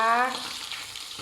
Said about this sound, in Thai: รอปลารอปลาลิมแดดเดียวของเราสุกค่ะ